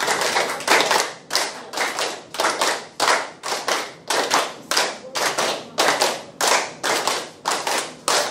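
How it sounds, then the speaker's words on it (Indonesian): An audience of council members at a technical training session claps in a rhythmic series of short, loud bursts, each round of applause separated by brief pauses. "Good applause"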